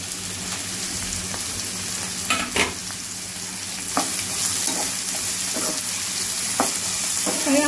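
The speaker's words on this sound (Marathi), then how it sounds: "हे आपल्याला चांगलं परतून घ्यायचं आहे" Onion, tomato and cashews sauté in a pan for egg biryani, a steady, hissing sizzle punctuated by intermittent stirring clicks and scrapes.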